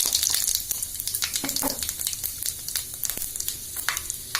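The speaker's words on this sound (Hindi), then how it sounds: "तेल में पाँचफोरन दे दिया है।" Panch phoron spice mix of cumin, nigella and fenugreek seeds crackling in hot oil on a gas stove, a dense close sizzle with quick popping bursts running steadily throughout.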